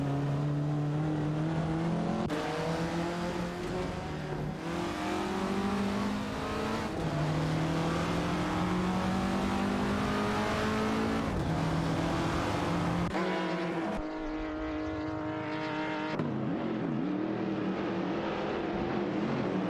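Race cars in a video game roar through overtakes, engines climbing and dropping through gear changes, with several cars rushing past in succession and a brief shift to a different whining engine note near the end.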